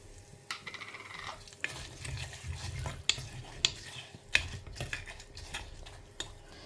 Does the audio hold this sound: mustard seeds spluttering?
yes